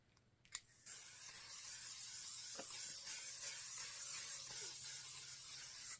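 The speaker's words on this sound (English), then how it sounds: "just going to set my face with this. This is my favourite setting spray." A makeup setting spray gives a short puff, then a longer continuous hissing spray at close range, fairly quiet, with no talking.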